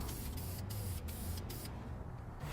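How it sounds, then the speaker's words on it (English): Aerosol spray can applying light, even clear coat to an engine valve cover, with short hissing bursts separated by brief pauses before a final quieter stretch. "And just like the rest of the paint, you want to spray light, even coats."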